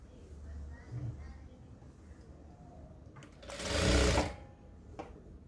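Sewing machine stitching the sleeve onto a readymade kurti, a loud whirring run of about a second after quieter handling sounds and faint voice nearby.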